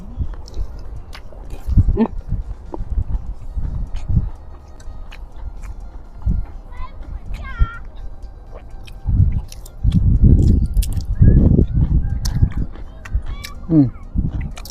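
Fresh raw vegetables, eaten alongside a spicy Thai larb, are bitten and chewed up close with loud crunching bursts in irregular clusters, strongest toward the end, while people talk intermittently.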